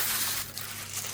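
A plastic bag crinkles while an AIO liquid cooler is unboxed: a brief, close burst of soft rustling and crackling that shifts midway, with no talking.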